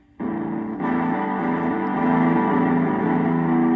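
A heavily distorted electric guitar tone through a PIC32-based digital distortion pedal that clips the waveform kicks in and sustains, buzzing and gritty, with chords shifting slightly as the effect holds.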